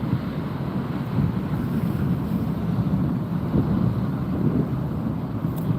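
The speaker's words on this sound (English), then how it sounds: "I wish it were a little less windy" Wind at Las Vegas airport during plane spotting on a sunny day, a steady close rumble of gusts hitting the microphone with a soft broadband hiss, continuous throughout with no speech.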